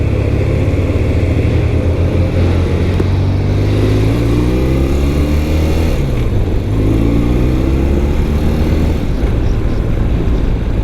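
A 1993 BMW R100GS Mystic Red, a 60-horsepower boxer-twin motorcycle, rumbles loudly and close while ridden through Los Angeles traffic. Its low, throbbing engine note climbs through rising revs and gear changes over steady wind noise.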